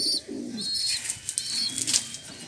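A young pigeon being fed makes soft cooing and squeaky peeping calls close by, with faint fluttering and rustling in the background.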